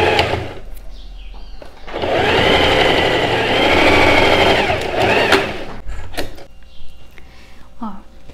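Sewing machine stitching the lining seam of a princess-style blouse, a steady close whir running for about four seconds between brief pauses and quieter handling noises.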